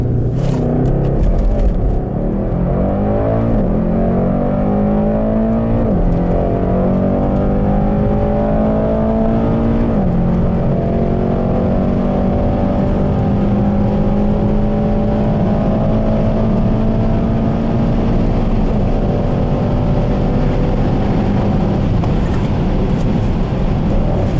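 A 612 hp Mercedes E63S 4Matic estate makes a launch-control start on a slightly wet surface. The engine roars hard and close through rising gear pulls, with brief shift breaks, and stays loud and continuous throughout with no speech.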